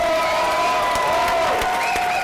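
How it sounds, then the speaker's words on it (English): Applause and cheering from a live event audience, a crowd response at a business seminar, sustained and dense throughout with whoops over a steady roar. "can we give Mexico a round of applause, you guys?"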